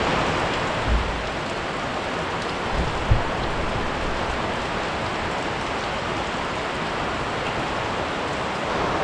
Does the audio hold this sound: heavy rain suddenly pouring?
yes